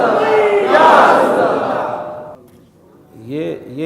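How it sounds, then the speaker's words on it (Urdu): A large crowd roars a religious slogan in unison at an Urdu-language gathering, a loud swelling shout that fades out, followed by a voice speaking nearby. "یہ نعرے ہی ہے۔"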